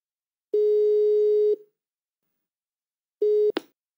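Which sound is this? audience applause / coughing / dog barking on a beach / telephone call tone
telephone call tone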